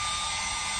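A hair dryer running in a cruise ship cabin, a loud, steady whooshing blow of air with a constant motor hum, unbroken for the whole moment.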